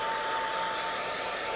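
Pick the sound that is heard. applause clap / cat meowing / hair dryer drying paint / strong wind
hair dryer drying paint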